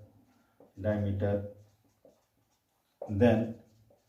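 Marker or chalk strokes sound on a board during a class-X maths lesson on circles. Two short bursts of writing come in quick succession, with quiet pauses between them.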